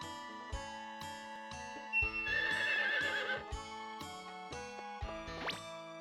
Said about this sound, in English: So there's the horse.